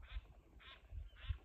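A swan calls three times in evenly spaced, nasal honking notes, moderately close and clear over quiet water near a river where paddlers pass on a SUP board.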